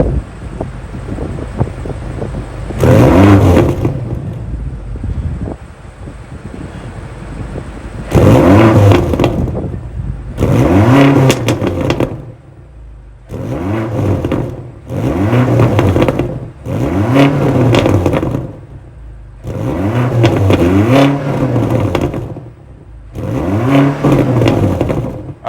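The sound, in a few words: BMW XM 4.4-liter twin-turbo V8 engine revving, active exhaust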